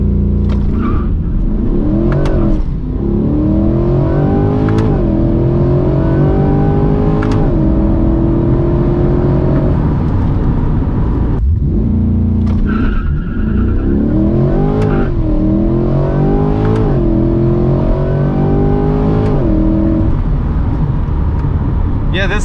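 A Corvette C8 accelerating hard, loud engine roar climbing through the revs in repeated surges with brief drops at the gear changes, heard from inside the car, with the wind and tyre noise of a fast run.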